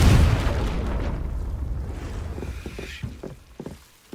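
The Confringo explosive spell goes off in Hogwarts Legacy as a loud, deep blast at the start that rolls and fades into rumbling debris with scattered crackles and thuds.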